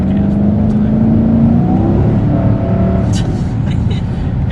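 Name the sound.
2011 Dodge Charger R/T V8 engine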